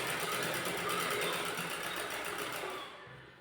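A sewing machine stitches a net fabric blouse with a steady, close mechanical whir that runs continuously and then fades out near the end.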